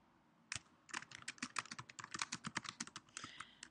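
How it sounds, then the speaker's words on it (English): Quick, irregular keystrokes on a computer keyboard, close and crisp, after a brief pause at the start, continuing in a busy burst of typing with no talking. "So I'm just going to type in something out."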